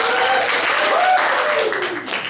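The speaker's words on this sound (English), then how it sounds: "This is clapping." Loud, dense clapping from a comedy improv show audience fills the whole stretch, steady and close with no gaps.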